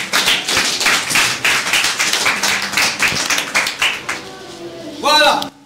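A church congregation claps in rhythmic unison, a loud, steady beat of many hands, with a voice speaking over it as the applause fades at the end.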